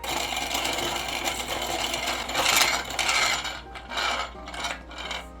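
A grain grinder, not properly clamped down, grinds feed corn with a steady, loud mechanical churn and rattle that pulses and surges in bursts toward the end.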